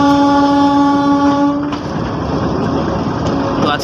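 A slow Chilmari commuter train on the Ramna Bazar to Kaunia rail route sounds a long loud horn, which gives way to a steady rolling rumble of the cars.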